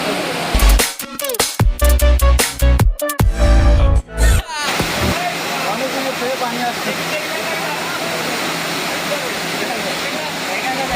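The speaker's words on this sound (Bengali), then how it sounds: "ওই পাশে একটা ঝর্ণা দেখতে পাচ্ছি, আমরা এখনো ঝর্ণার কাছে যাব" A park fountain at Natore Green Valley Park on Eid pours in a steady, loud rushing roar that runs on alone after a few seconds of loud voices at the start.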